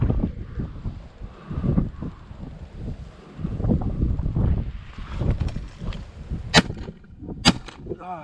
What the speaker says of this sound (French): il faut dire qu'il y a beaucoup de vent là